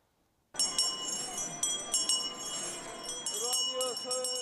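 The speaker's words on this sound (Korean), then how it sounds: "올해도 어김없이 구세군 자선 냄비가 등장해 사랑의 종소리가 울리고 있습니다" A Salvation Army charity handbell rings repeatedly with bright metallic clangs against a busy downtown Daegu street background, steady and fairly close.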